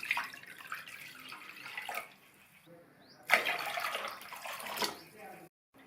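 About one and a half litres of water is poured into a mixing bowl for ragi semiya vegetable upma, making a running splash that swells in two bursts before stopping.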